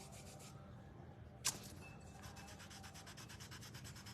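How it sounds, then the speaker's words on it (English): Sandpaper rubs against an eraser during acrylic painting, a faint soft scraping under a steady background hiss with one brief sharp tick. "let me use my sandpaper"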